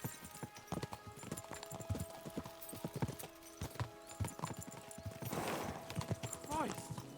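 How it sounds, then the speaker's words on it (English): Horse hooves clatter in a steady, rapid clip-clop rhythm in the video game Kingdom Come: Deliverance II, with a brief whinny near the end and voices beneath. "We should spur the horses on."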